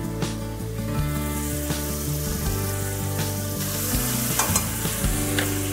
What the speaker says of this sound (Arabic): غنزيد اللحم على الزيت اللي سخنات، نحرك وغنزيد مباشرة بصلة محكوكة رقيقة